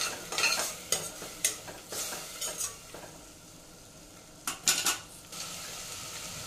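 A spoon scrapes and clinks against a pot as mint-coriander paste is stirred, in short irregular bursts of scraping with pauses, close and fairly quiet, no voices.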